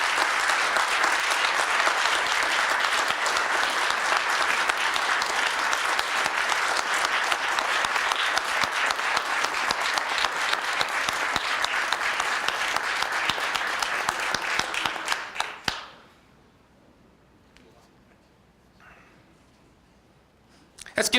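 Long, loud, sustained applause from an awards ceremony audience for the Officer of the Year nominees at a police department event, dense and even for about fifteen seconds before it stops abruptly and leaves quiet room tone.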